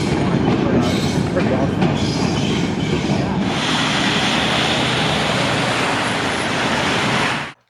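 An elevated city train glides past with a broad, steady whooshing roar and rail rumble, loud and close throughout, brightening midway before cutting off abruptly at the end.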